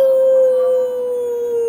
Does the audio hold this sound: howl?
yes